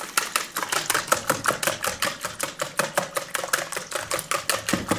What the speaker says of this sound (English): Grab your whisk,